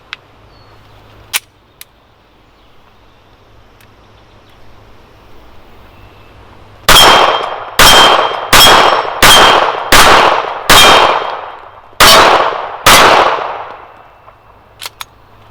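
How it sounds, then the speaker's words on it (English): Eight sharp pistol shots from a Browning Black Label .380, a 7/8-scale 1911, each followed by the ringing clang of steel plates at 12 yards on an outdoor range, fired in a steady string with a short pause before the last two. "We're going to ring some steel here at 12 yards"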